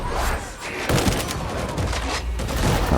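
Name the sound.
suppressing gunfire in video game Darktide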